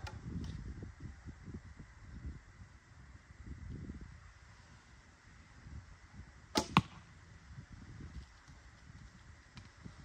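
An arrow shot from a traditional archery bow outdoors: one sharp string release and thwack stands out midway, set against soft rustling and low wind rumble.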